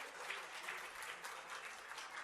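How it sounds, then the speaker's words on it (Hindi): Audience at a school cultural program applauding steadily for a couple of seconds, a soft, even wash of clapping heard from a distance. "मैं एक बार उनके लिए ज़ोरदार तालियों के लिए दरख्वास्त करूँगी।"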